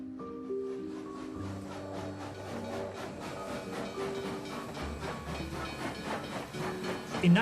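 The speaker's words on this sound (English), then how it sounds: "In 1902, Alma's train headed to Constantinople." An early 1900s steam train heading to Constantinople, a continuous hiss of steam mixed with rumbling rail noise and sustained tonal hums, steady and moderately loud throughout with a slight swell at the end.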